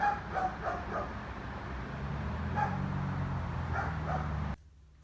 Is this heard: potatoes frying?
no